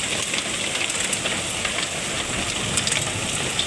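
Large hailstones mixed with heavy rain pound a roof in Al Namas, a dense, steady, hissing clatter with scattered sharper impacts throughout and no voices.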